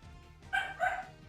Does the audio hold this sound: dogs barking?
yes